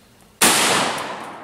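A single sharp rifle shot, from an H&R .223 or a Marlin .22 LR, fired outdoors at a busted computer mouse. It cracks loud and close and then rings out in a long, slowly fading tail.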